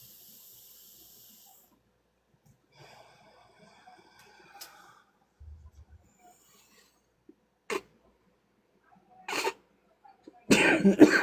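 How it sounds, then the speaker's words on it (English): A few short coughs break a mostly quiet stretch, growing louder, the last a harsh close burst, with faint hiss and a brief trickle of water earlier. "don't mind me if you hear some coughing"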